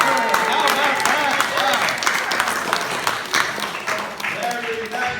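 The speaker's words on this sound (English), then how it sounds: "Big round of applause for Rabbi." An audience at a Chanukah gathering breaks into steady, sustained applause, with dense clapping throughout and voices calling out over it.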